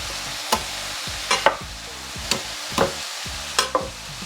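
Onions frying in a hot pan, a continuous soft sizzle broken by several sharp scraping stirs of a utensil against the pan, close up and with no talking.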